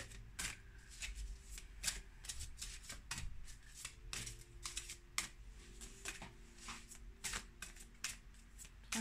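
Aradia oracle cards being shuffled in a quiet room, a steady run of soft, crisp riffles and flicks repeating close by with no voices, only faint background hum.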